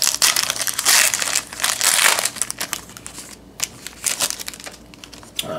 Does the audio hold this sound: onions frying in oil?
no